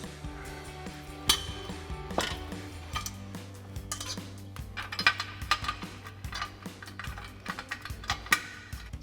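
Factory bolts and springs being fitted into a Magnaflow Street Series exhaust flange on a 2022-2024 Toyota Tundra, giving irregular light metallic clinks and taps close by over a low steady hum.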